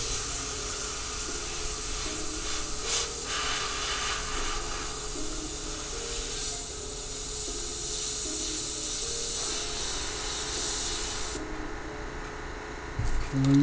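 An airbrush sprays paint through a texture stencil onto the back of a painted skull, giving a steady, close hiss that runs almost without a break and cuts off near the end.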